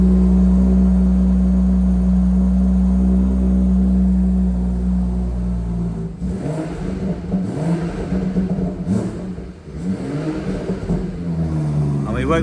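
A BMW M240i with an M Performance exhaust idles while warming up with a steady low rumble, then turns rougher and uneven as it runs, with a voice speaking briefly over it.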